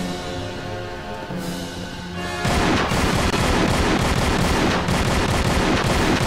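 Dense, sustained gunfire from a Tomb Raider: Angel of Darkness fight, a loud continuous barrage of shots that starts abruptly after a quieter stretch of game music and keeps going to the end.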